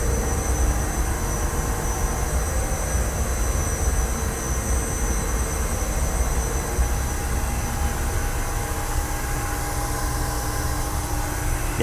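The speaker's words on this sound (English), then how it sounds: "in front of us we have the engines. It's a little loud in here, but we have the generators" Generators and engines run inside the engine room of a 115-foot Benetti superyacht, giving a loud, continuous mechanical roar and whine that stays steady and close throughout with no speech.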